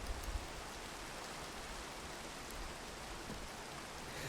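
Steady rain falls in the video game Minecraft, a soft, continuous hiss of rainfall at low volume with no other sounds over it.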